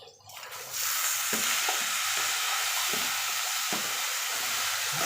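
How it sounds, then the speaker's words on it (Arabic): Rice stuffing is stirred in a hot pan over a loud, constant sizzle. Dull scraping strokes of the spoon recur roughly every second beneath the frying hiss. "نديله تقليبتين"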